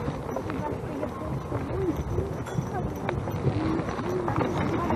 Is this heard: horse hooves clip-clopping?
yes